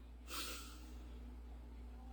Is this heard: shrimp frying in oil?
no